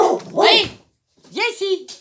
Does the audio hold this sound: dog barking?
yes